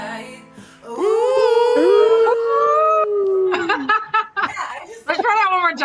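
People at an online open mic imitate a howl, one long rising and falling vocal howl followed by shorter overlapping howls, snickers and laughter from several voices, loud and close.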